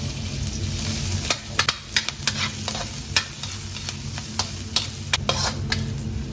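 Garlic and ginger sauté in a pan with a steady sizzle, broken by sharp, irregular taps of a utensil stirring against the pan.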